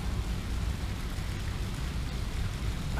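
Steady rain falling outside a hotel in Melaka, a dense continuous hiss with a low rumble underneath and no distinct drops standing out.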